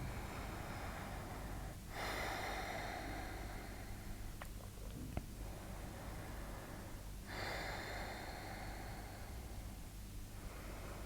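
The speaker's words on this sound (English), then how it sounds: "And breathe there" Slow, deep breaths during a yoga exercise: a long soft airy exhale swells, fades, and returns in a second drawn-out breath. It is close and gentle over a faint steady hum, with no talking.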